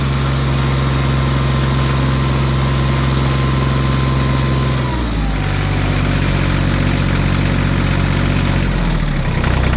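A loud, close truck engine drones steadily, then its pitch drops and shifts midway as it labours to climb out of a pit, rumbling on continuously.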